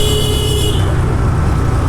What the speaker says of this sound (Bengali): এই যে একজন পিছনতে দিতেছে, মানে হর্ন বাজতেছেই